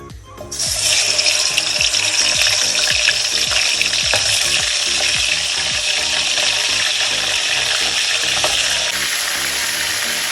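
Chicken pieces for a roast fry in hot oil with a loud, steady sizzle from start to finish, nearby, and some clinks from stirring, with no talking.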